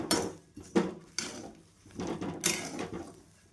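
Indian gooseberries (amla) roasted in salt in a pan, stirred and tossed with a utensil that gives irregular scraping, rattling bursts against the metal, close and moderately loud.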